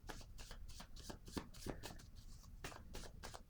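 Tarot cards being shuffled for a card reading, a close run of repeated riffling and slapping bursts at a steady rhythm, quiet and alone.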